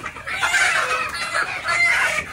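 Sonali chickens at a wholesale poultry farm cluck and squawk loudly and close by in repeated bursts, with no talking over them.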